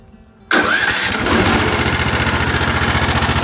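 A Mechmaxx sawmill's engine catches sharply on the key after a brief quiet moment, then settles into a loud, steady running drone close by with no talking.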